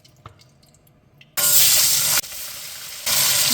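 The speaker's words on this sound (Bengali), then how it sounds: "দিয়ে দিচ্ছি সরষের তেল।" Mustard oil sizzles loudly in a hot pan while fish is cooked, a sudden bright hiss after a quiet start that keeps going, with a brief dip midway before flaring up again.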